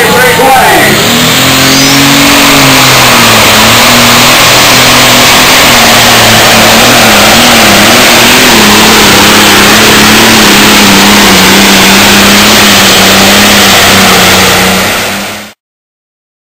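A John Deere 4320 tractor at an outlaw tractor pull in Chickasha, Oklahoma, its engine roaring loud and steady under strain for the full run, with an announcer's voice carrying over it before it cuts off abruptly.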